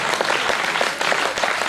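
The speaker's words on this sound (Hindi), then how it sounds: "तालियां बजाइए नेताओं के सम्मान में।" Audience at a Hindi poetry gathering (kavi sammelan) breaks into steady applause for the politicians, a dense, continuous patter of many hands clapping throughout with no speech over it.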